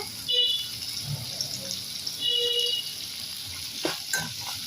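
Tamarind and tomato sautéing in a pan for garlic thuvayal, giving a steady low sizzle and frying crackle with a few brief stirring scrapes, close and fairly quiet throughout.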